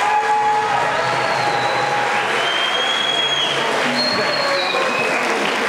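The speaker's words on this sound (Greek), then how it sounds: "Ένα χειροκρότημα για το μικρό χορευτικό." A steady round of audience applause greets a Pontic Greek children's dance group at a Pontic Greek association event in Nuremberg, mixed with some crowd noise and faint whistle-like tones.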